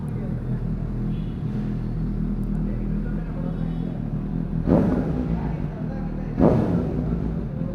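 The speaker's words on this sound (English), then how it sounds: "The bike is loud, dude." A superbike's engine rumbles loudly and steadily up close, with two sharper revving surges near the end, while people talk over the engine noise.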